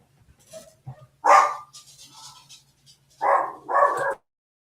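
A dog gives a few loud, close barks: one sharp burst, a pause, then two quick barks in a row, with no talking over them.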